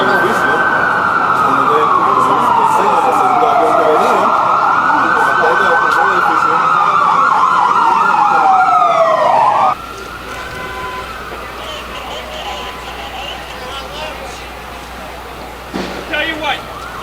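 Ambulance sirens wail loudly on emergency vehicles in a street on 9/11, rising and falling in long sweeping tones that cut off abruptly partway through, leaving quieter street noise and a brief clatter near the end.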